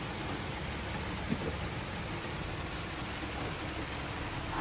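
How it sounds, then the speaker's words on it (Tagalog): Heavy rain pouring onto surfaces in a dense, steady hiss that fills the scene, loud and close, without any gaps. "sa lakas talaga ng ulan"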